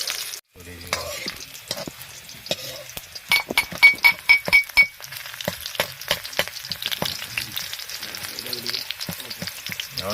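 Onions for chicken curry fry in a pan, with a loud sizzle under repeated stirring strokes and clinks, and a voice talking briefly near the start.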